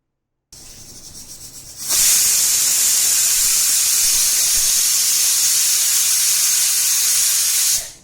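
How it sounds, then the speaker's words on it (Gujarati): A pressure cooker on the stove vents steam as its whistle blows, a loud, steady, high-pitched hiss that starts abruptly and holds for about six seconds before stopping suddenly. "હવે આપણે આની 4 થી 5 વિસલ વગાડશું।"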